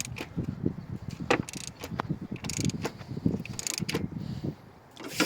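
A Subaru EJ20 engine is turned over by hand after a timing belt install. Irregular mechanical clicks, ratcheting and faint clinks come at close range, quiet and uneven, with no voices.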